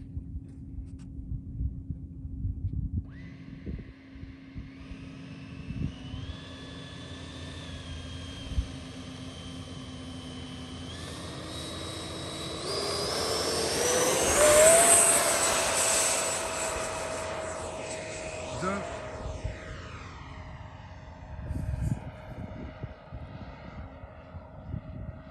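A Freewing Cougar RC model jet makes its maiden flight, its ducted-fan whine climbing in pitch, swelling to a loud pass near the midpoint and then fading into the distance.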